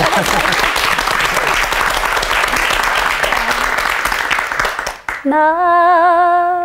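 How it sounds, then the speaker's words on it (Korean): A studio audience at a Korean Christian TV broadcast breaks into loud, sustained applause, steady and full for about five seconds, before a sustained musical tone takes over. "박수를 한번"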